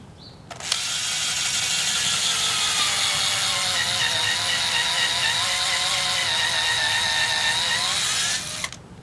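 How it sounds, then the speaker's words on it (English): A cordless drill with a low battery whirs continuously for about eight seconds at a steady high pitch while drilling holes in a log for mushroom inoculation, starting and stopping abruptly, loud and close, with a grinding edge. "Once you've marked out where you're going to drill your holes, it's time to drill."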